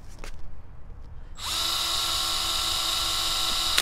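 After a quiet start with faint rustling, a power drill with a large bit whirs up and runs continuously at high speed, loud and close, drilling a hole in a vehicle bumper.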